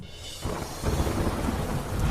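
Steady rain pouring down in Aravalli, Gujarat during the monsoon, with a low rumble of thunder rising partway through and the downpour growing louder, dense and close, with no voices.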